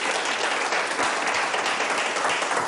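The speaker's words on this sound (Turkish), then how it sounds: "Alkışlar bir gelsin bakalım" A studio audience at a Turkish folk-music television program applauds steadily, a dense, even wash of many clapping hands heard at moderate distance without a break.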